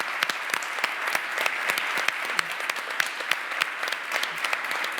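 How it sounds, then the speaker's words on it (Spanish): A crowd applauds at a crime-fiction literature event in Getafe, sustained clapping of many hands that stays dense and even throughout, with sharper individual claps standing out near the front. "Y un aplauso, por favor, para Susana."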